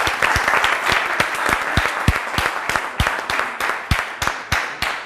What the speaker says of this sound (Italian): Facciamo un applauso, dai,